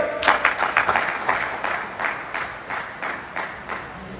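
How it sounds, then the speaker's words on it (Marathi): Loud applause from a gathered crowd at a school reunion of a 1990-91 tenth-standard batch, honoring the school and its teachers; dense rhythmic clapping, close and steady, gradually thinning. "त्या शाळेसाठी आणि त्या शिक्षकांसाठी एकदा जोरदार टाळ्या होते"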